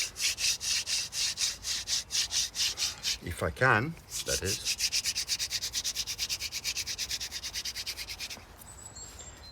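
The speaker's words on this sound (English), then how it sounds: "So why not finish the day with the hand drill?" A wooden hand drill spun between the palms to make friction fire gives off a steady, rhythmic rasping close by, pausing briefly midway while a voice speaks, then resuming with a fast, even scraping.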